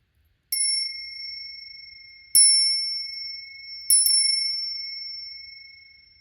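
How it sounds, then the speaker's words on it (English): A small bicycle-style bell is struck three times, each ring a sharp, clear ding that decays slowly, with the last strike doubled in quick succession, in an otherwise quiet room. "I'm going to ring the bell on 3"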